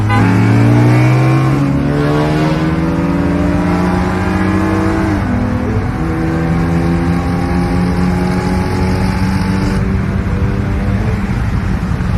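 Engines roar and rev loudly as a Lexus IS350 and a stage 3 tuned Ford Focus ST accelerate hard in a drag race, pitch climbing through gear shifts, with a steady high-speed drone throughout.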